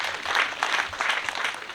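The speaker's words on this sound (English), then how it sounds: "let's give a hand clap" An audience claps for the head teacher at a school PTA annual general meeting at Rubongi Army, a steady, dense round of applause that stays even throughout with no voices over it.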